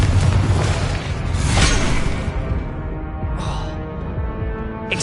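A Confringo blasting spell explodes in a Hogwarts video game, a loud, sustained burst of rumbling, crackling game noise that swells and then tails off into a lingering roar.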